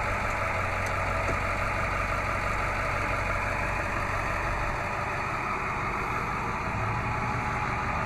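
A 2001 Ford F-350 with a 7.3-liter Power Stroke 16-valve turbo diesel V8 idles steadily with a deep rumble and faint knocking clatter, close and constant throughout, with no voices.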